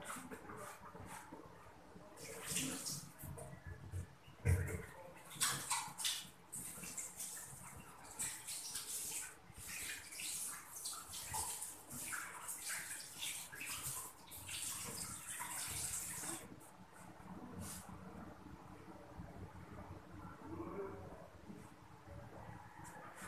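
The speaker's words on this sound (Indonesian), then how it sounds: "kemudian kita cuci tangan" Hands being washed under a running tap, a continuous splash of water with rubbing and intermittent sloshing, fairly quiet and close, lasting the full stretch before stopping near the end.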